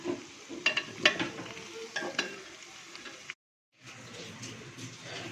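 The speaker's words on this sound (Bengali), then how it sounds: "আমি আলু আর পটল ভাজবো একসঙ্গে চিংড়ি মাছ দিয়ে।" Potato and pointed gourd fry together with prawns in a pan, giving a soft sizzle under clattering stirring and scraping strokes. The sound breaks off briefly, then a quieter sizzle continues.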